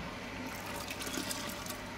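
Diluted anti-foam mixed with water is poured into a brewing vessel during an all-grain West Coast IPA homebrew, a steady close splashing wash of liquid with no talking.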